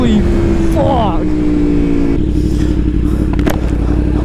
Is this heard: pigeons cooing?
no